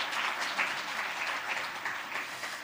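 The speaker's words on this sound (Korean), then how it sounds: "박수로 환영하도록 그렇게 하겠습니다" Steady, full applause from a church congregation at a Sunday service, welcoming a visiting family; dense clapping holds an even level throughout, with no talk over it.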